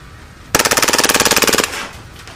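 A KWA FPG airsoft gun, a compact folding pocket gun licensed by Magpul, fires one loud full-auto burst of about a second at 18 rounds per second, a fast even rattle of shots standing alone, with a short mechanical tail after it.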